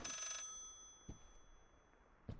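A telephone rings inside the horror video game Layers of Fear, a bright tonal ring that fades out quickly, followed by faint low thuds in a quiet room, with no speech.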